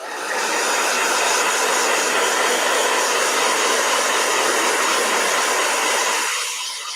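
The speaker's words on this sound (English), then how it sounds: "Okay, the blow dryer." A handheld blow dryer runs loud and close for several seconds, a steady whooshing motor roar that ramps up at the start and cuts off near the end, with no one speaking over it.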